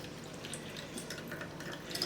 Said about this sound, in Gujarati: ઠંડુ જ પાણી ઉમેરવાનું